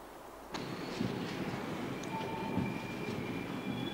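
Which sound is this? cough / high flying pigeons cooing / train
train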